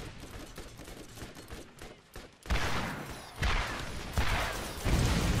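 Rocket fire and explosions in the video game Borderlands, aimed at an enemy turret: a series of loud, rushing blasts arriving in bursts roughly a second apart after quieter gunfire.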